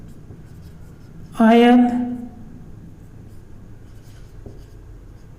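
Chalk or marker scratching on a board during a maths lesson on the cross-multiplication method, a faint steady rubbing that runs under a teacher's speech.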